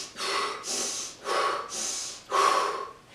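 Quick, shallow breaths drawn high in the chest and pushed out again, about five audible rasping inhales and exhales in a steady rhythm, close and with no speech.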